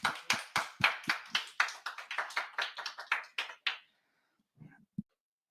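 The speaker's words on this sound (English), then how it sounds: "please give them a big round of applause" A small audience at a tech talk gives a round of applause, with sharp, close individual claps in a quick rhythm for a few seconds before fading into silence and a couple of final taps.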